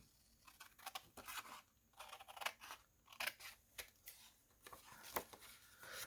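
Scissors snipping white paper off the top edge of a card to make a summer journal pocket, with a series of close, crisp cuts and rustles spaced irregularly across a quiet indoor background.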